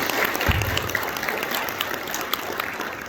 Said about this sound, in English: please give our corporate member, Morris Bank, a round of applause